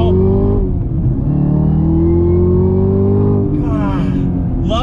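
A Chevrolet Camaro ZL1 1LE's LT4 V8 engine revs hard under throttle, a steady loud roar that climbs in pitch, close and continuous.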